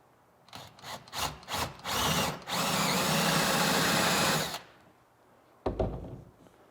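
A power drill bores two holes through walnut floorboards in a wooden boat, coming in short bursts before a sustained, loud whirring grind that stops, followed by a brief final burst; no talking.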